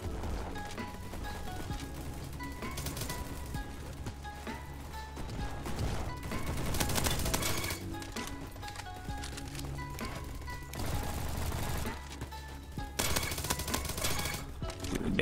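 FAMAS rifle fire in the Roblox shooter Bad Business rattles out in rapid automatic bursts, with repeated dense volleys and brief pauses, loud and close, and a voice talks between the shots.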